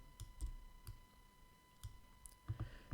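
Sharp, quiet computer mouse clicks while working in Adobe Illustrator, a handful of separate taps spread unevenly with a small cluster near the end, over a faint steady electronic hum.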